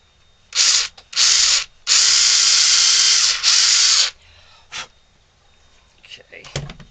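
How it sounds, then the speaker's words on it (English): A power drill bores a hole into a wooden ventriloquist dummy figure in several loud bursts of whining, separated by short pauses, followed by faint handling clicks. "we're going to start by drilling a hole down through here"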